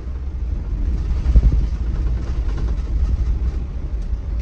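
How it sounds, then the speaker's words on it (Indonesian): Constant low rumble of a bus driving on a toll road, with loose rattling and clattering of its seats jostling throughout at a steady, moderate level. "itu tadi suara yang gredek tuh dari kursi teman-teman ya"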